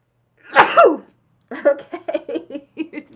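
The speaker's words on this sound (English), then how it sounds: "Oh, I'm going to sneeze." One loud sneeze bursts out near the mic, followed by a pause and then someone speaking.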